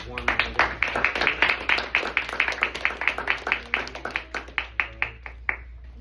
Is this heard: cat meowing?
no